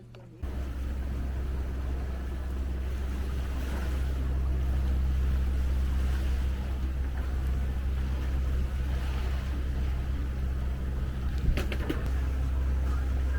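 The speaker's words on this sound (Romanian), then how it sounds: "Mergem să mai navigăm puțin." A sailboat cruising through Greek sea water, with a steady low rumble of hull and water rushing plus wind noise running throughout, and a brief louder splash near the end.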